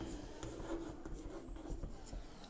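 A marker or chalk scratches across a board while a math interval is written in tabular form, a close, quiet run of short rubbing strokes with no talking.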